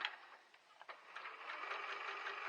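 A sewing machine chain piecing quilt squares onto a gray strip, running in quick continuous bursts of close mechanical stitching with brief pauses between pieces, fairly quiet overall.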